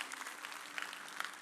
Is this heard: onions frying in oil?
no